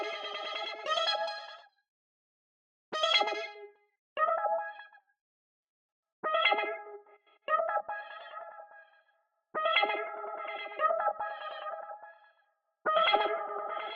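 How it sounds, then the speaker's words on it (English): A sample run through the Arcade plugin in FL Studio plays in short, separated bursts, coloured by scream distortion and a rising echo delay that smears each phrase, with silent gaps between the bursts and no voices. "So the scream is like some sort of distortion. The rising echo is like a really cool delay effect that I don't hear often."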